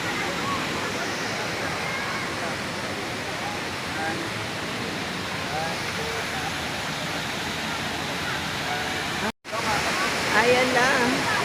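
Daranak waterfall in Tanay, Rizal, roars as a steady broadband rush of falling water, loud and continuous throughout, with a brief dropout near the end before the roar resumes.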